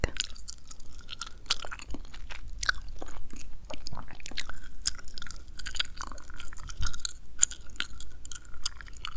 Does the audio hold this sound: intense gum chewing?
yes